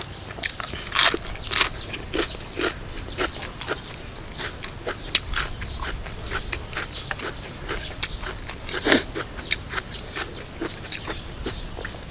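Crunchy chewing of grilled beef eaten outdoors in a rice field, a close series of irregular crisp bites and crackly crunches over faint background noise, with no voices.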